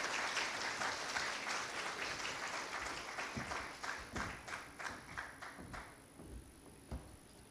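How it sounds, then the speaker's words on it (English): A crowd at a budget survey launch event claps steadily, dense at first and then thinning into scattered, slower claps toward the end. "A round of applause for our presenters."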